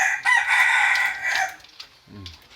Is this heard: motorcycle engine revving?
no